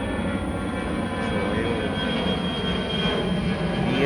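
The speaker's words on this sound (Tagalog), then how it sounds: "may dumadaan pang aeroplano" A fixed-wing airplane drones steadily overhead at early morning, around 6 AM, above Heritage Memorial Park in Taguig; the broad engine roar holds fairly even throughout with no talking.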